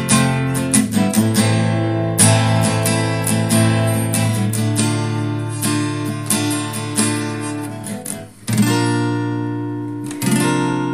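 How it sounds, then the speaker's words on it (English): The slowed-down ending of a song on acoustic guitar, its tempo dragging in an original arrangement; steady, close, unaccompanied strumming rings on with a brief dip near the end before the chords swell again. "The final piece of the song, in fact, it just gets slowed right down, the tempo, before we hit the ending"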